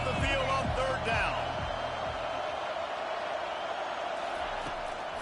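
Home crowd at an Oklahoma Sooners college football game roaring on third down, a broad, loud stadium wash with thumping impacts at the start that settles into a steady, sustained din.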